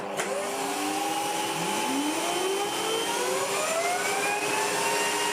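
Corded commercial vacuum cleaner running on minimum power with a turbo head fitted, a steady loud close roar with whining tones gliding upward as the brush spins up, continuous and without speech.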